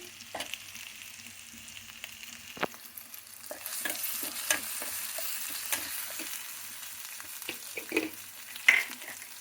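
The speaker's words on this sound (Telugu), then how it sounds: "ఇప్పుడు నూనెలో ఒక్కసారి వేయిస్తున్నాను అన్నమాట" Vermicelli frying in a little oil for a masala vermicelli breakfast: a soft, steady sizzle close by, broken by scattered sharp crackles and spoon-scraping clicks as it is stirred, with no talking.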